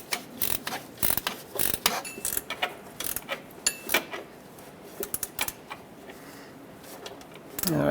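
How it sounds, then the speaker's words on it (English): A ratchet wrench tightens the idler pulley and alternator support bolt on a Chevrolet Equinox, sounding as rapid, close metallic clicking in irregular bursts with short pauses between strokes. "Let's tighten up this idler pulley / alternator support bolt."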